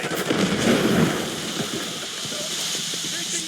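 Rapid gunfire and blasts in a Call of Duty match, a dense, continuous clatter of shots with a louder burst early on, mixed with game effects throughout.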